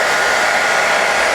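A hair dryer blows loudly and steadily at close range, a continuous whooshing roar used to melt crayons on a pumpkin, with no talk over it.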